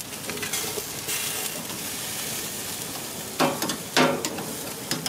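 Jerk chicken sears on a grill in a steady, crackling sizzle that fills the whole clip, with two louder bursts of spitting fat late on; no one speaks.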